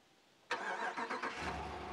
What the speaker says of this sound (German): drückt man zweimal auf diesen Schlüssel und das Auto startet